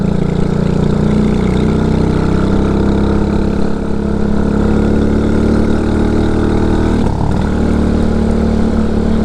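A vehicle engine running slightly rich idles steadily at low revs, a continuous deep rumble with a brief dip partway through.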